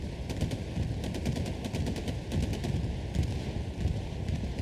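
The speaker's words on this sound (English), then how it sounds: "Beautiful defensive bombing run coming in and stopping the cap progress." Defensive bombing run in a competitive video game match: dense, rapid bursts of gunfire and explosions roll on without a break, loud and close.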